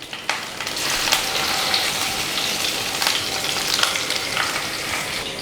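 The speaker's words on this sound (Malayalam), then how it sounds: "ഇനി നമുക്ക് ഇതിനകത്തോട്ട് മീൻ വെച്ച് കൊടുക്കാം." Fish sizzles and fries in hot coconut oil with curry leaves in a pan, a steady dense crackle with scattered pops, loud and close, no talking.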